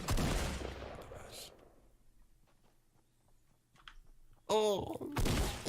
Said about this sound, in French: il est en train de tirer juste à côté là